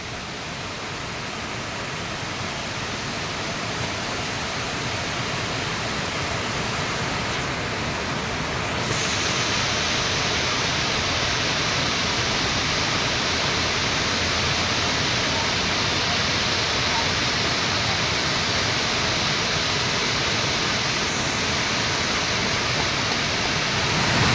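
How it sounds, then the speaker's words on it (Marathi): A village river waterfall where people swim roars as a dense, constant rush of falling water, loud and steady from start to finish with no voices above it. "धबधबे धबधबे दोन कॉलेज तरुण ज्यांना पोहता येतं ते पाण्याचा आनंद घेत आहेत"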